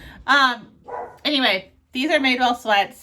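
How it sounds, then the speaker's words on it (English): A pet dog barks and yips in short bursts somewhere in the home, partly masked by someone talking over it at close range. "That's my dog yelling in the background."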